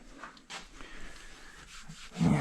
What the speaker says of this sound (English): So now let's clean with the benzene.